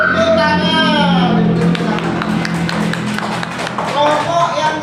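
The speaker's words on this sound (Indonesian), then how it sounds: "Tepuk tangan." Children in a second-grade classroom clap together, a quick run of sharp claps mixed with their overlapping voices and chatter, loud and close throughout.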